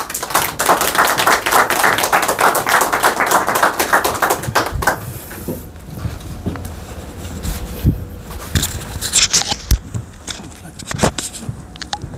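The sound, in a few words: audience applause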